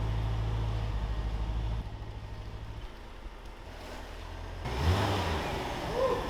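A Mercedes supercar idles in the rain while warming up to operating temperature, a low steady engine rumble that dips partway through, with rain and wind noise rising over it.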